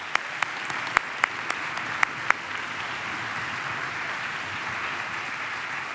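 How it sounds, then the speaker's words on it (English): Applause from an audience at a city band concert for students, a steady broadband wash of clapping with several sharp, louder individual claps standing out near the start before settling into even, sustained applause. "I think that deserves another round of applause."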